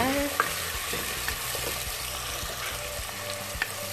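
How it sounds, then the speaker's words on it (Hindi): Potato and eggplant sabzi frying with chopped tomatoes in a pan, a steady close sizzle with a few soft stirring clatters throughout, no voices. "1-2 मिनट के लिए हमने इसको पकाना है टमाटरों के साथ, ताकि टमाटर बिल्कुल ही मैश हो जाए।"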